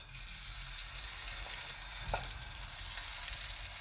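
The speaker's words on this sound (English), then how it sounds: "You need to hear the sizzle when you put the meat in." Chicken thighs sizzle in very hot oil for a stew, a steady close crackling hiss with a brief clatter partway through.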